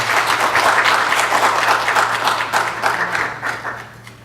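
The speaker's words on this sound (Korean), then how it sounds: "이제 우리 박수로 우리 이상기 님 모시겠습니다" A seated audience applauds to welcome a guest lecturer, steady, dense clapping filling the room and slowly thinning out toward the end, with a low steady hum beneath it.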